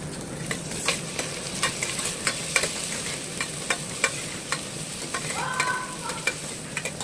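Green chillies, red chillies and mint fry in a pan, a steady sizzle broken by regular stirring taps and scrapes, with a brief high squeak near the end.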